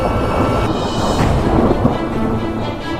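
Thunder rumbling through a severe thunderstorm in July 2024, a loud, continuous low roar with rain hiss and no voices.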